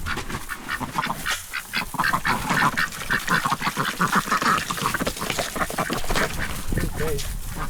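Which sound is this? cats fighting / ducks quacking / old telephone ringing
ducks quacking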